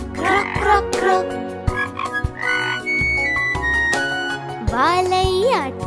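A little frog in an animated Tamil children's rhyme croaks repeatedly amid music and sung vocals, with loud, close, warbling croaks that may be voiced by a singer.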